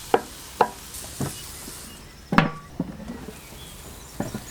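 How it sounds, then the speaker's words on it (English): A utensil scrapes and knocks around a pan of fish tagine on a Weber Q barbecue, a few sharp scrapes and taps over a faint background sizzle, close by and without talk. "Give it all a good stir round"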